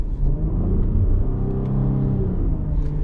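A 2026 Cadillac CT5-V, a rear-wheel-drive performance sedan, drones with a steady deep engine and exhaust rumble while driving, a continuous low growl with mild swells in revs and no talking.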